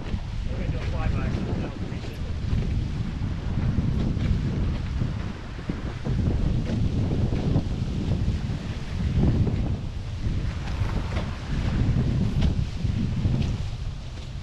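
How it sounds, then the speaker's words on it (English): Strong wind buffets the microphone while foiling across New York Harbor during a sailing race, a steady roaring gust with water rushing beneath, and faint voices underneath. "There's some good wind up in here, man."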